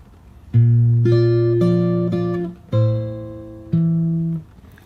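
Fingerstyle acoustic guitar plays a bar of a song, with three sustained plucked chord groups ringing out in steady succession, close and clear with no voices.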